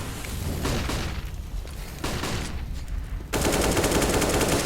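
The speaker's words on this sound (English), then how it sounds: "Spellan sprays him through the smoke, Borup falls, and Outlaws man advantage." Rapid gunfire from a Counter-Strike esports match, a rifle spray through smoke, sounding as dense sustained bursts that surge louder near the end, with a broadband crackle filling the clip.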